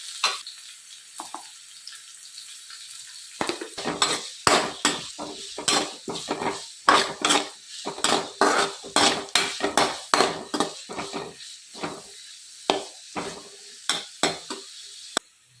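Onions sautéing in a pan with salt for a chickpea dish, stirred with a spoon: after a quiet start, a rapid run of scraping, clattering strokes against the pan over a soft sizzle, close and fairly loud.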